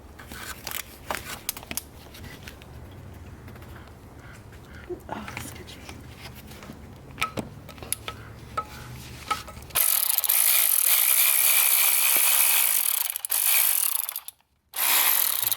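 T30 Torx bolt being turned out by hand on a Mini Cooper S N18 engine, with a series of quick close ratchet clicks and faint metallic ticks in the first part, followed by a loud steady hiss.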